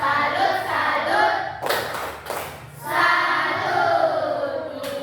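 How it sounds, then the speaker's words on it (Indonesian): Children in a classroom perform a rhythmic 'tepuk salut' clapping routine, with bursts of hand claps and chanting voices close by, and a brief pause midway before the claps resume. "Jadi kita kasih tepuk salut dulu untuk teman-temannya yang tampil tadi"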